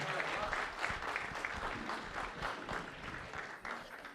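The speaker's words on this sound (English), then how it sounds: "How about a nice round of applause for Ross" Wedding guests clap and cheer for Ross during the toasts, a steady crowd patter at moderate distance with voices mixed in underneath.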